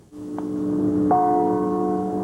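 A church bell rings out with a sustained, resonant tone, a second strike blooming about a second in and its hum lingering steadily.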